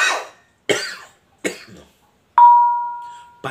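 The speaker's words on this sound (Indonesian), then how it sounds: "Saya permisi batuk dulu." A man coughs several times in a row, close and loud, with short sharp bursts separated by pauses, and a single clear bell-like ding rings out and fades between the final coughs.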